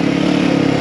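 A Himalayan 450 Rally motorcycle engine runs loud and close in a steady, throbbing drone, heard briefly on a trail ride.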